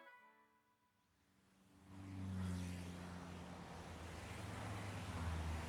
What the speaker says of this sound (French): Rumeurs de voitures